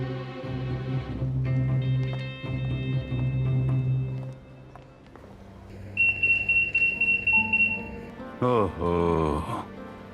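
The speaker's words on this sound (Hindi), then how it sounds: "ओहो, लगता है अलार्म में कोई खराबी हो गई है।" A security alarm going off gives a steady, piercing high electronic tone that pulses in rapid beeps, heard over background music and a brief voice near the end.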